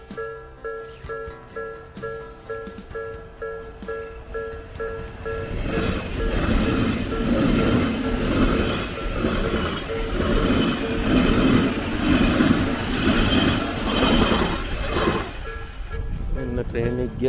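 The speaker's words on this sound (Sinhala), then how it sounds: "ට්‍රේන් එකක් යනවා යාළුවනේ. අපි බලමු ට්‍රේන් එක යද්දී කොහොමද කියලා මෙතන" A train passes through snowy Japan with snow falling: a distant rumble swells into a loud, close clattering roar through the middle, then fades, with people talking faintly at the start and end.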